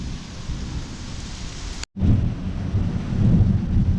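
Monsoon rain with thunder: a steady loud downpour and rumbling that cut out for a moment, then return heavier and closer.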